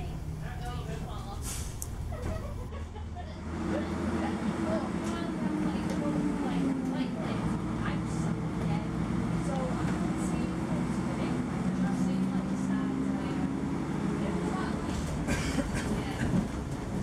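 A rumbling engine drones steadily inside a moving vintage AEC bus, with rattles and clatter from the cabin and a low whine rising and falling as it travels.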